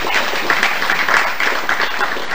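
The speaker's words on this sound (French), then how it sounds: "Merci pour vos applaudissements." Indoor audience at a Congolese public ceremony giving steady applause, a dense, loud wash of many hands clapping that holds at an even level throughout.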